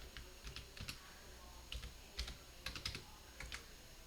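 Soft keystrokes on a computer keyboard come in a few scattered clusters as a word is typed into a search box, faint and close with no talking.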